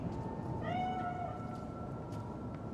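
A cat in the video game Cyberpunk 2077 lets out a single faint meow over a low, steady background hum.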